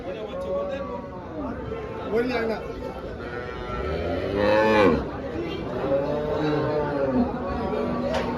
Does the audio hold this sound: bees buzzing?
no